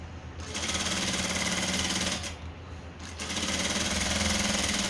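A sewing machine stitches a kurti, its steady motor whir and rapid needle chatter running nearly continuously at close range, with two brief pauses before it starts again.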